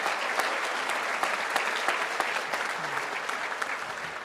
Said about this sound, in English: Oh, you can clap for that.